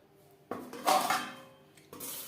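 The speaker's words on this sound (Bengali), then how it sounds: "গ্যাসের ফ্লেমটা বন্ধ করে দেব ঢাকনা চাপা দিয়ে আরও পাঁচ মিনিট স্ট্যান্ডিং টাইমে রেখে দেব" A metal lid clatters onto a pan of fried cauliflower with a sharp clank and brief rattle, followed by a softer knock of cookware near the end, close and alone.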